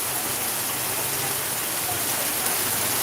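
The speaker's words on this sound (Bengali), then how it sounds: "প্রচুর বৃষ্টি দিচ্ছে" Heavy night rain in Sylhet pours down steadily over flooded lanes, a dense unbroken hiss close by that stays level the whole time.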